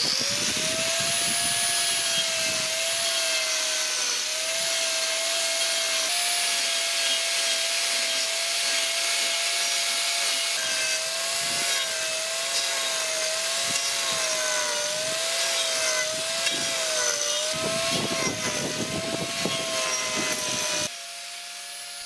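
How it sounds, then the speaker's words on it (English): Angle grinder carving attachment cutting into a block of wood outdoors, a steady, loud whining drone that runs on continuously with slight shifts in pitch as it bites into the wood, then drops away near the end. "we're now going to go outside and take the angle grinder attachment and come down"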